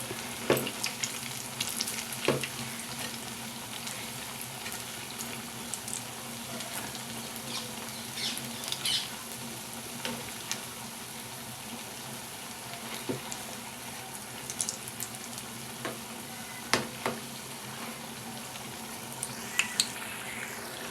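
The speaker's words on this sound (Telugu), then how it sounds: "వీటిని కూడా ఎర్రగా వేయించి తీసేసుకుంటాం" Whole moong bean burelu fritters frying in hot oil, a steady close sizzle and bubbling that runs unbroken, with occasional sharper pops and stirring clinks; no one speaks.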